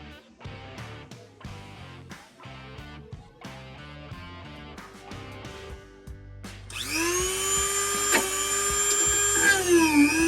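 A Milwaukee power drill with a new bit whirs in short stuttering bursts, then runs steadily and loudly as the bit bites into a Jeep WJ Grand Cherokee steering part, rising to a sustained high whine.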